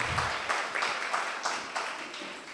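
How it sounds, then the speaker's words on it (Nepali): A church congregation at Dunamis Church applauding during a sermon: loud, sustained clapping from many people, rising and falling in waves, with a voice briefly audible at the start. "आउनुहोस् ठुलो ताली बजाउँ येशूलाई।"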